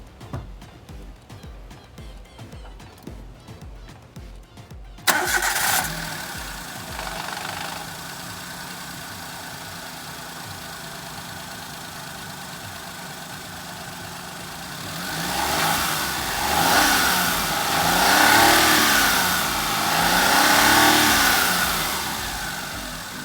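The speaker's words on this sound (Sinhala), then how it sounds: "අපි බලමු මේ vehicle එක ස්ටාර්ට් කරලා මේක එන්ජින් සවුන්ඩ් එක කොයි වගේද." A Suzuki Alto 800 car's small engine cranks and catches, settles into a steady idle, then revs up in several rising and falling bursts near the end.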